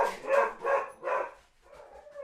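A dog barks three times in a quick, even rhythm, fairly close and loud, then gives a softer whining yip after a short pause.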